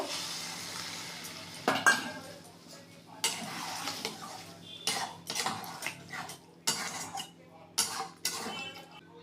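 Cornflour slurry stirred into veg Manchurian in a frying pan, giving a soft sizzle with repeated scraping and clinking of a utensil against the pan in uneven bursts, close and moderately loud.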